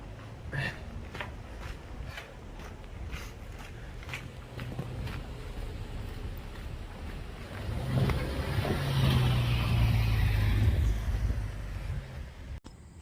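A car passes on a rural road in Connecticut beside the Appalachian Trail, its engine and tire noise swelling louder for a few seconds over steady wind and outdoor rustle before easing away.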